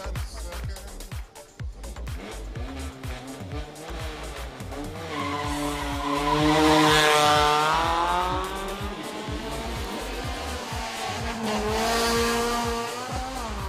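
A race car is released from the start line at the Eliyakanda Hill Climb. Its engine climbs through rising revs and pulls away loudly, with a second surge later. Voices are heard briefly at the start.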